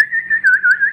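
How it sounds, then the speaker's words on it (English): A pet bird in a Gambian residence whistles a clear, steady warbling tone up close, wavering in short rising and falling phrases for about a second with no talk over it. "Let me hear your whistle, birdie"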